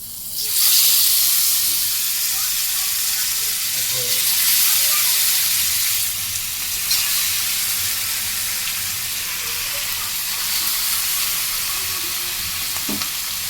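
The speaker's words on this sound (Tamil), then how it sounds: "அப்புறம் எண்ணெய் காஞ்சிடுச்சு, மீன் வறுக்கலாமா." Pomfret fish fries in hot oil, producing a loud, continuous hissing sizzle that starts abruptly and holds steady, with slight surges and a few faint pops and scrapes.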